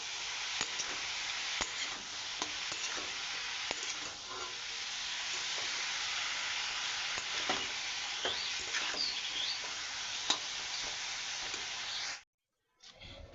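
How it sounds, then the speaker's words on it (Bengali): Salt, cumin and turmeric are stirred as they fry in a pan, giving a continuous close sizzle with scraping stir strokes throughout, then a short drop to silence near the end. "ঘেটে নিচ্ছি একটু।"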